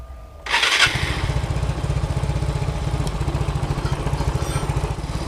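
A Yamaha Mio M3 blue core scooter engine cranks and catches after a brief moment of quiet, then settles into a steady, close, rhythmic idle putter, with no talking.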